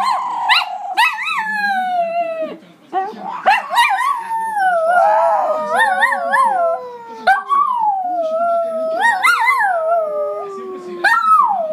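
A dog named Tchuca howls close by in long, wavering rising-and-falling wails, repeated several times with brief breaks between them.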